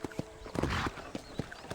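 Hooves clop in an uneven rhythm, a horse in the video game Red Dead Redemption moving at a walk on a hard surface, with a brief noisy rush in the middle.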